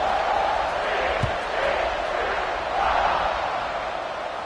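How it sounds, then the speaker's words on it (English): A stadium crowd at a football game buzzes steadily before a kickoff, forming a loud, dense roar of many voices that swells slightly now and then. One short thump stands out briefly. "this crowd is buzzing after that last score"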